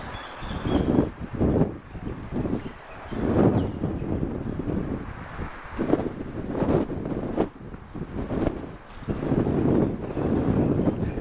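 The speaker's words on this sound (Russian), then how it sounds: "Ветер подул, хорошо" Steady wind in Samarkand, Uzbekistan, gusting and buffeting the microphone, with rumbling low roar that swells and eases over several seconds; no voices.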